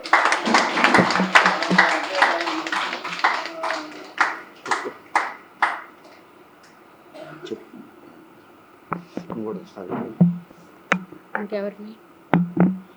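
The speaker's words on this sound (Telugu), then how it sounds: "స్వాగతం పలుకుదాం గట్టిగా క్లాప్స్తో" An audience at a pyramid meditation hall anniversary event claps loudly to welcome a guest. The dense applause fills the first few seconds and then thins into scattered claps, with people talking nearby.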